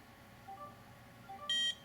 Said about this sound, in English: the credit card reader will light up and beep